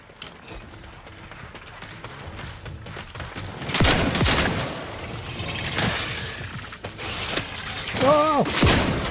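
Gunfire from a weapon in the video game Outer Worlds 2, sharp loud shots and bursts with mechanical clanks, firing in clusters over game ambience, with a brief voice near the end.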